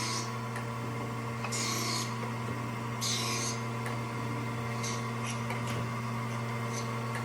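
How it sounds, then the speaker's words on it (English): An Acer 12 x 24 inch three-axis hydraulic horizontal surface grinder hums steadily while grinding a small part, with periodic hissing sweeps as the wheel passes, mechanical and without talk. "We are making a small part on this grinder for the demo purpose."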